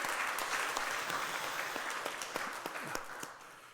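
A church congregation applauds together during a Sunday service, a steady wash of clapping that gradually thins out near the end.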